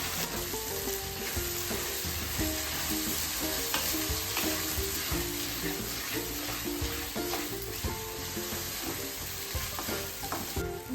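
Masala for a prawn curry fries in hot oil and is stirred, giving a dense, continuous sizzle with repeated scraping strokes of the spoon.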